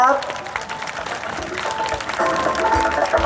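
Audience applause welcoming a presenter onto the stage at an aerobics competition award ceremony in Nakhon Phanom, steady clapping from a crowd heard over loud background music and some voices.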